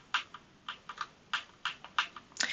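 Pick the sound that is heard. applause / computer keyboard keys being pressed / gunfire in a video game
computer keyboard keys being pressed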